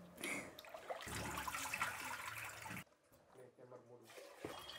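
Water pours out of a pot as rice is rinsed for idli batter, a loud broadband gush for about two seconds that trails into quieter splashing, with a voice speaking nearby.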